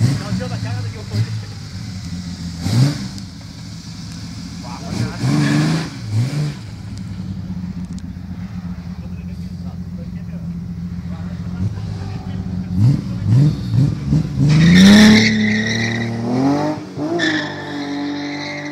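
A BMW 325 engine revs in several rising bursts over a steady idle, close by and fairly loud, with people talking through much of it.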